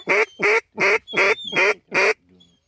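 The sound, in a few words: sick duck call imitating duck quacks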